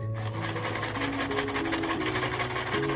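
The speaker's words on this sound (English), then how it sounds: "So as my elastic is white, I'm going to do zigzag on one side" A sewing machine stitches a zigzag along white elastic, running as a loud, close, rapid mechanical whirr with steady rhythmic needle clatter from start to finish.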